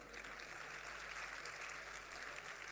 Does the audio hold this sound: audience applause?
yes